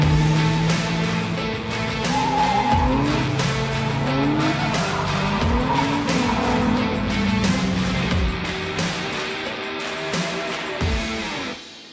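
A 2021 Mercedes-AMG E63 S Wagon with a twin-turbo V8 slides in drift mode, its tires squealing in long wavering screeches over a steady loud engine roar that fades at the end.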